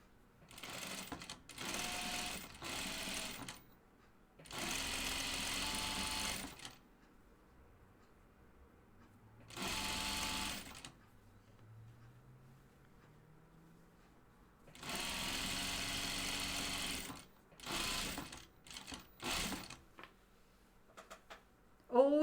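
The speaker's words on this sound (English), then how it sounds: "So I'm going to sew it the center fronts and along the top." A domestic sewing machine stitches the center front seam of a pair of jeans in several separate bursts of rapid, even whirring, each a few seconds long, with quiet pauses and some faint talk between runs.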